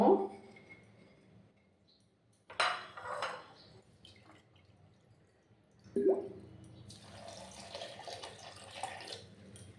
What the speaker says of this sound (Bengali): ওই বাটির মাপ করে আমি জলটা দিয়ে দিলাম